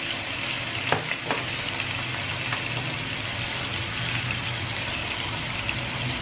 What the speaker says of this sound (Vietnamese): Mình dùng cái đồ xúc này mình xúc mình đảo nhẹ nhẹ thôi nè các bạn